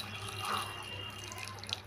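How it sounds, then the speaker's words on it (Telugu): Water poured into a mixer jar holding spices such as cardamom and cloves, a faint, short trickling splash heard close by, with no talking. "ఇప్పుడు ఇందులో కొన్ని వాటర్ వేసి"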